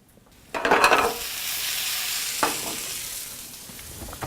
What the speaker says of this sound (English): we're going to cook it in a little saute pan with a little bit of olive oil